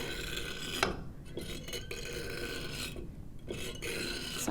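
A fine saw shaves a clay soil specimen as it turns on a trimming device in a soil mechanics lab, giving a continuous faint scraping rasp with a few short louder strokes.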